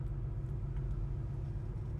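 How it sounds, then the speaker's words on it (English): 1969 Chevrolet Nova engine idling outdoors in sunshine, a steady low rumble that stays even and fairly quiet throughout, no voices. "We're going to take it out in the Florida sunshine and see how the car runs out."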